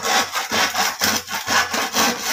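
Hand saw cutting through wood in a steady back-and-forth rhythm, about five rasping strokes, close and loud with no talking.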